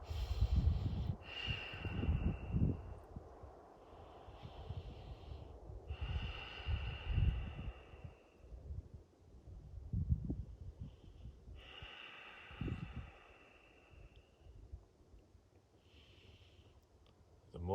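Deep, slow breaths during a seated yoga twist, audible inhales and exhales close to the mic with soft nasal snorts, repeating over several seconds with faint background tones and no speech.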